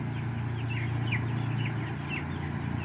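A flock of broiler chickens in a closed poultry house clucks and chirps in scattered short calls over a steady low hum, fairly faint and without talk.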